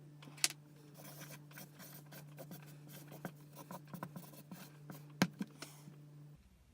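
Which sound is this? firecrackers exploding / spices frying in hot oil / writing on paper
writing on paper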